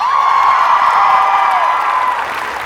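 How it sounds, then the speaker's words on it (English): A convention panel audience at Wizard World Philadelphia cheers and applauds loudly and steadily. Shrill whoops ride over the crowd noise, which eases slightly toward the end. "Round of applause for Vision."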